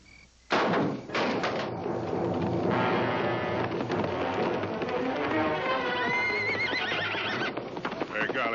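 A horse whinnies loudly and close, with a long shaking neigh, while hooves thud and clatter beneath it in a busy, driving rhythm.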